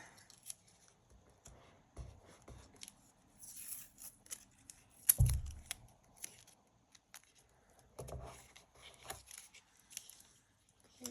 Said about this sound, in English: I'm gonna add some washi tape in a few spots.